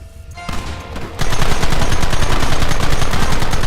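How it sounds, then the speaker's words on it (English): Intense sustained gunfire from the Red Dead Redemption video game, a dense rapid barrage of overlapping shots that starts sparse and swells into a loud continuous fusillade. "There they are! Open fire!"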